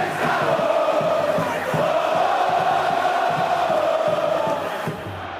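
A huge stadium crowd of Atlético Mineiro football supporters roars and chants continuously, a dense sustained wall of cheering that eases slightly near the end.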